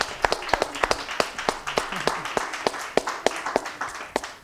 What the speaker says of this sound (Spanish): levantamos las copas y aplaudimos